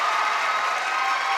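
Crowd at a women's basketball national cup final rising to its feet with a sustained, steady roar of cheering and clapping after a free throw, broad and continuous throughout with no distinct voices standing out.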